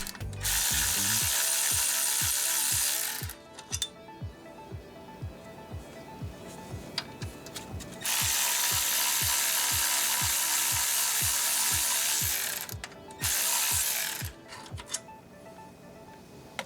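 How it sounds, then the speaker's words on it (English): A hand ratchet loosens the bottom bolts of a 2007–2014 Cadillac Escalade alternator with rapid, evenly spaced clicks close by. Loud bursts of broadband noise come and go several times over the clicking. "grab your ratchet and remove the 2 bottom bolts"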